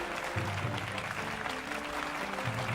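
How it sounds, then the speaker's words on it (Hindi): Audience applause welcoming Tribhuvan Master, a judge at the Nritya Nakshatra 2018 dance event, sustained throughout with a low musical hum underneath. "त्रिभुवन मास्टर जी का जोरदार तालियों के साथ स्वागत कीजिए"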